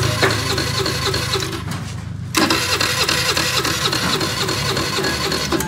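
A motorcycle's push-button electric starter cranks the engine after a new spark plug is fitted. There are two whirring bursts with a short pause between them, and the engine never catches and runs.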